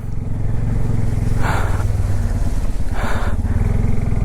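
A Bajaj Pulsar N250 motorcycle engine chugs steadily at low revs, close by, with two brief splashy bursts as it moves slowly through mud.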